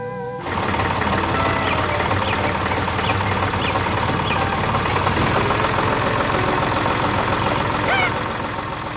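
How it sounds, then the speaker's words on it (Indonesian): A yellow tractor engine in an animated farm cartoon runs with a steady, even mechanical chatter after a sudden start, loud and continuous with no talk over it, joined near the end by a brief high squeal. "Dengan suara mesin yang tenang, traktor itu menggerakkan tanah dan menanam kehidupan baru."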